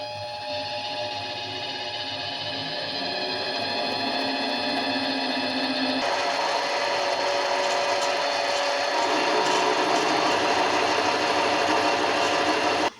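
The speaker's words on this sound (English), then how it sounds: "See if I can cut it about here. That should give me plenty of material to make the ones I need." Lathe cutting into bushing stock material with a steady, loud grinding whine that runs without a break for about thirteen seconds and roughens and intensifies halfway through; no one speaks.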